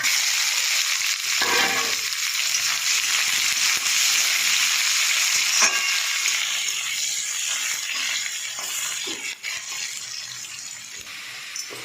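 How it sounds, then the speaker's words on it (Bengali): Onions fry in hot oil with five-spice and dried chilli, a loud, dense sizzle and crackle lasting throughout with occasional stirring scrapes and no talking. "বন্ধুরা, আমার পেঁয়াজ ভাজা হয়ে গেছে।"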